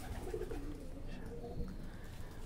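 A single pigeon coos softly at close range, a few low throaty calls over a steady murmur of background noise.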